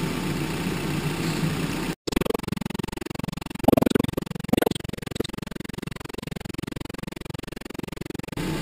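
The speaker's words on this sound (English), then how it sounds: "now I just started the engine" A 2007 Kia Optima 2.4L four-cylinder engine idles with a steady low rumble during a coolant refill, cutting out for an instant early on, with a couple of faint clunks partway through.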